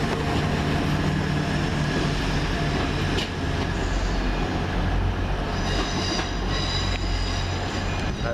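A train rumbles past a station platform in Hull, a steady loud roar of wheels and carriages with faint squeals and clatter throughout, no voices.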